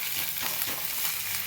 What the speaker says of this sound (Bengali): আদাটা হালকা নাড়াচাড়া করে নেবো।